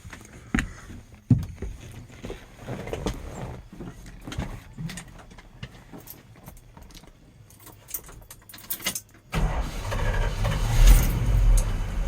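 A warm 1975 Dodge D-700 truck with a 361 engine starts up: quiet clicks and key rattles lead to a sudden loud, close, low rumble as it fires and keeps running.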